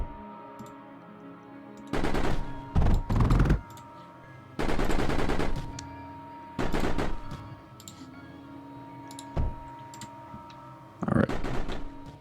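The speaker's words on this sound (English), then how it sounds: "I really, really, really need that thing to stop firing all of our surge" Turret fire in the video game Mindustry: several bursts of rapid, rattling shots, each lasting about a second, with a steady game hum between them.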